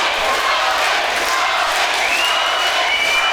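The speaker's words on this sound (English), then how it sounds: "This crowd coming alive as we go into round 3" Boxing crowd at a white-collar boxing main event roaring steadily between rounds, a dense wash of cheers and whoops with no clear pauses.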